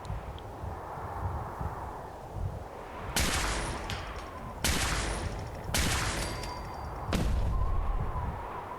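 Fallout 4 gunfire crackles in four broad, loud bursts separated by short gaps, each sharp at the onset and trailing off into a noisy ambient rumble.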